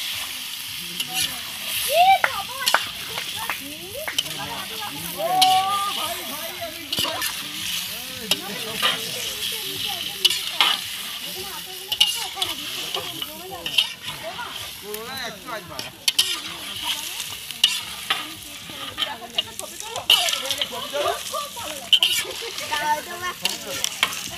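Village chicken fries and is stirred in a pot outdoors in West Bengal, with a steady sizzle broken by scraping and splattering; people talk over the cooking, and birds chirp faintly in the background.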